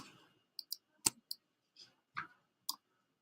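A computer mouse gives about eight sharp, separate clicks, spaced irregularly and close up, while a folder in Google Drive is dragged, with no talking.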